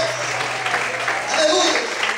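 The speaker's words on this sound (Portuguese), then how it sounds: "aplauda o Senhor" A church congregation applauds during a Portuguese-language service, scattered clapping mixed with voices and a low steady hum, loud and reverberant.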